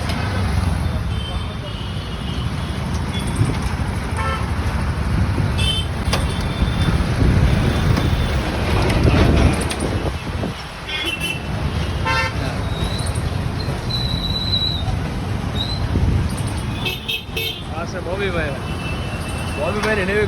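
A new Honda Shine 125 motorcycle pulls up at a temple amid outdoor traffic noise, its horn tooting in a few short bursts while people talk excitedly nearby.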